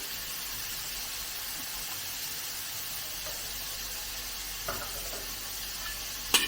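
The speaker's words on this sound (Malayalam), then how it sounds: "ചിക്കൻ ഒന്ന് 2-3 മിനിറ്റ് ഒന്ന് ഫ്രൈ ആയി വരണം" Chicken pieces fry in hot oil for a chicken curry, giving a steady, even sizzle with a few faint stirring knocks near the end and no talking.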